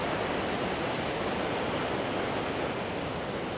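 Sea waves washing up on An Beach in Da Nang, Vietnam, heard as a dense, steady roar of surf, close and loud, with no breaks or voices.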